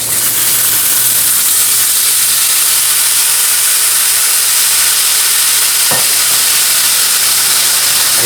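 Liquid poured into a hot pan of steak sets off a loud, close, continuous sizzle and steamy hiss that holds steady throughout.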